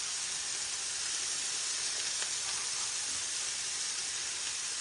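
Sliced onions sizzling on a Deluxe Grill and Griddle, a steady, close, even hiss with no pauses and no talking.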